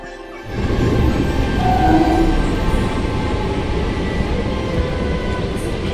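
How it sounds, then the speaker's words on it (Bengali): A steady, loud rumble of a moving train heard from on board, with rattling carriages and a faint tonal whine, starting abruptly and continuing evenly throughout. "এই দেখো আমি ট্রেনে উঠে পড়েছি।"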